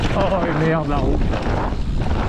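Strong wind roars across a microphone on a mountain bike park track, a loud, close, buffeting rumble that fills the whole moment while a voice speaks over the start.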